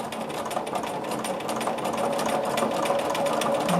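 A sewing machine quilting a Greek key design whirs steadily and up close, stitching without a break.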